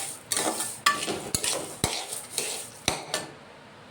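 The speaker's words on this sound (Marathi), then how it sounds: "गरम आहे तर असं छान फिरवत आहे" Roasted mixed seeds are stirred in a hot pan that has been taken off the heat, giving sharp metallic scrapes and clinks about every half second over a faint rustle of tumbling seeds.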